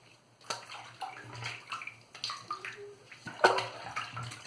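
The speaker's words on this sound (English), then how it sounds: "I'm going to wash off this lather and go for a second application." Water splashes and runs over a synthetic shaving brush as Stirling soap lather is rinsed off, a steady close wash with small sloshes and a brief louder burst near the end.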